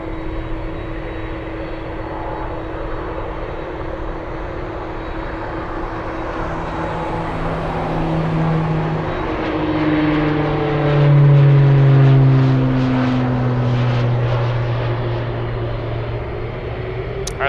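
A jet airliner, a Delta Boeing 757, approaching to land at Anchorage airport, a steady engine whine and rumble that swells louder toward the middle, then eases slightly, heard at a distance in open outdoor air without talk.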